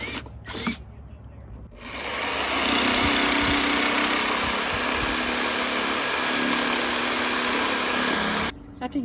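A power drill whines steadily for several seconds as it bores into wood, loud and close, starting and stopping abruptly after a few handling knocks.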